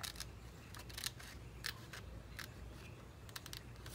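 Scissors cutting a picture out of a June 1988 Elle magazine for a collage: a run of quick, crisp snips at an uneven rhythm, heard close against a soft background hiss.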